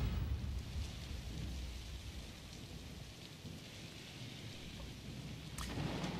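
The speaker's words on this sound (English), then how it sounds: "You hear the storm brewing out there." A thunderstorm with steady rain pouring onto surfaces and low rolling rumbles of thunder, continuous and fairly distant, with no voices over it.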